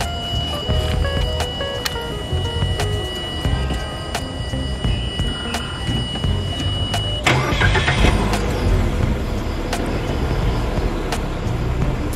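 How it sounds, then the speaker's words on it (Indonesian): A 2021 Mitsubishi Xpander Cross is started up close, with a brief crank that catches into a steady idle, accompanied by repeated dashboard chimes and beeps. "dan sekarang akan kita hidupkan mobil ini biar kita tahu berapa kilometernya."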